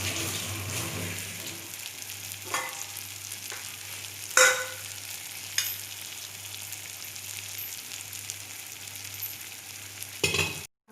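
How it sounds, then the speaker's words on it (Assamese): Food frying in oil in a pan for an evening thali meal, giving a steady close sizzle and crackle throughout, with a few brief utensil clinks and stirring sounds along the way. "এনেকৈ অকণমান দেৰি ভাজিব"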